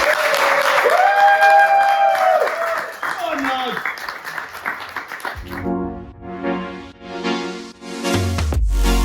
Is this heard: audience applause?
yes